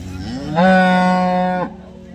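A horned cow in her third lactation lows once at a cattle market in Sangola, a long, loud, close moo rising then holding steady before stopping abruptly, with faint market background around it.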